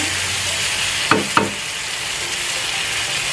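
Chicken biryani with coconut milk simmers in a pot, giving a steady bubbling sizzle with two quick stirring knocks close together near the middle.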